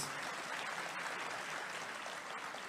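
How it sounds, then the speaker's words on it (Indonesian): A crowd gives dense, steady applause for Pak Anies at a public event. The clapping sounds distant and fairly faint and holds an even wash throughout, with no voices above it. "Mari kita berikan tepuk tangan sekali lagi ke Pak Anies."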